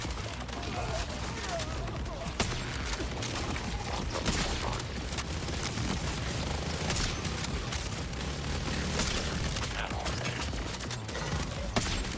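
Video game gunfire and explosions form a dense, continuous barrage of shots and booms, loud and steady throughout.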